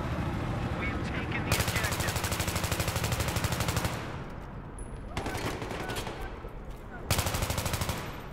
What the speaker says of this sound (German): War das ein Gegner, der da geschossen hat?